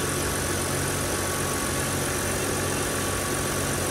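A 2011 BMW 328i straight-six engine idling with the hood open, a close, even, continuous hum and rumble without revving, and no voices over it.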